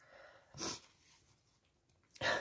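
A single sharp sneeze bursts out near the end, preceded by a brief sniff-like breath, close and otherwise quiet.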